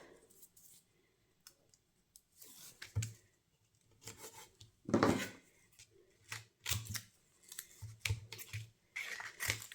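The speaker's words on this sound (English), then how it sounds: "I just want to pop that down. Bit of double-sided tape." Double-sided tape peeled and pressed down while a handmade card is stuck in place, giving scattered soft clicks, crinkles and short tearing rustles close up, with no talk.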